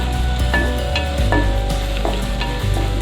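Oil sizzles loudly in a pan while fish gravy cooks, a dense continuous frying hiss broken by a few soft stirring clinks.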